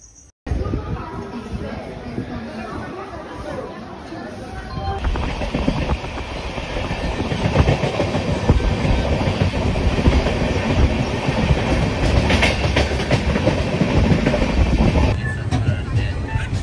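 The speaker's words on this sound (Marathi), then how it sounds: "5 मिनिटात आपली ट्रेन येणार आहे आता" A train pulls in at Igatpuri railway station with a loud, close rumble and a steady clickety-clack of wheels on the rails. The rumble swells and then holds under a low murmur of voices.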